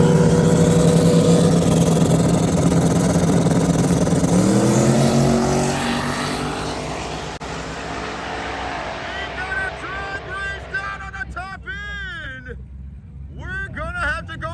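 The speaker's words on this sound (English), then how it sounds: "As we go into the staging process, both cars are boosted." Boosted outlaw small-tire drag cars at Muncie Dragway launching down the strip, a loud, rising engine roar that fades as they pull away, leaving a distant whine and then a commentator talking.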